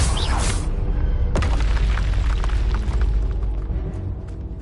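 A Confringo blasting spell in Hogwarts Legacy lands as a loud, deep boom with a sharp crack near the start, followed by a rumbling decay.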